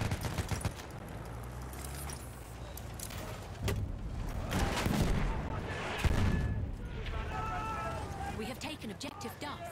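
Video game combat with rapid bursts of gunfire and booming explosions, several loud impacts scattered across the clip, mixed with game sounds and a player talking over the action.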